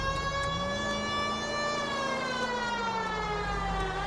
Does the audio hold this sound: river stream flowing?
no